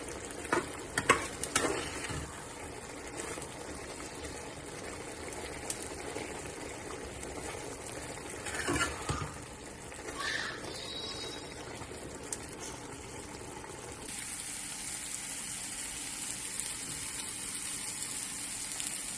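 Vegetable biryani sizzles and bubbles softly in a pot, a low, continuous hiss broken by a few stirring knocks and scrapes.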